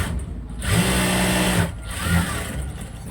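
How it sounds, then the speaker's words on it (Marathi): A sewing machine runs in two bursts while stitching a gown during a fitting, a steady mechanical whir that stops briefly before starting again, close and fairly loud with no talking. "आता दुसरी पण शिलाई आपण टाकून घेऊ"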